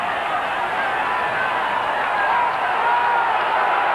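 A frustrated rugby league crowd at a 1998 Bradford versus Castleford match, a dense, steady roar of many voices murmuring and jeering in a stadium, continuous and fairly loud.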